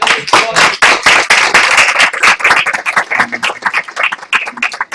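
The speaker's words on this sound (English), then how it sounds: "I'm going to give all three of our gentlemen a round of applause." Close, loud clapping from a debate audience honoring three speakers, sharp individual hand claps in a brisk irregular patter that thins slightly toward the end, with a faint voice in the background.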